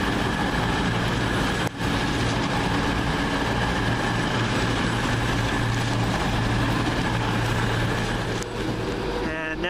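Class 220 unit 220032 passing through Wolverhampton station, a steady loud rumble of engine and wheels holding throughout with a brief dip partway, close by on the platform.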